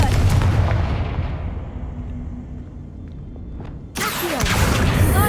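In the video game Hogwarts Legacy, a Confringo fire spell blasts with a heavy booming burst that rumbles and fades over a few seconds, followed by a second sharp, loud explosive hit.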